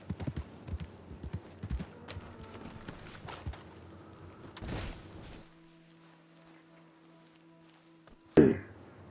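A horse in Red Dead Redemption 2 clip-clops in uneven hoofbeats for the first few seconds, then fades into a quiet game ambience broken by one sharp sound near the end.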